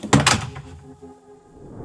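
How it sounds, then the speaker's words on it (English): A door swings shut under the pull of a viral TikTok door-closer gadget and latches, one solid thunk followed by a brief rattle that fades into quiet room tone. "it closes with enough force to be able to actually latch the handle of the door"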